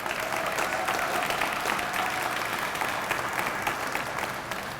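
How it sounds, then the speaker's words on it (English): An audience claps steadily at a public funding event for a community center, the dense applause holding at an even level from start to finish, with faint voices underneath. "Another nice round of applause for Lisa Blunt Rochester."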